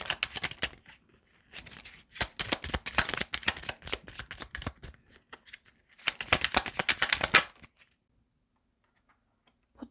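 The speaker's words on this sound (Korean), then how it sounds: "조언 카드 2개 더 뽑아볼게요" Tarot cards shuffled and drawn in several rapid riffling bursts, crisp and close, separated by short pauses, with a final longer flurry before quiet; no talking.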